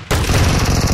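Rapid, punchy shotgun blasts from the mobile battle royale BGMI fire close and loud, one on top of another across a single second after a brief quiet start.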